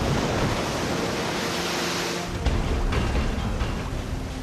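Amazon river rapids roar in a loud, continuous broadband rush of churning water, steady throughout with a slight shift in texture partway through.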